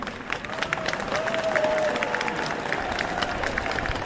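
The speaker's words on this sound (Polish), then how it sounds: "Proszę Państwa, to są oklaski." Audience applause for a Dixieland jazz band at a concert, a steady wash of clapping from a crowd that holds at an even level the whole way through.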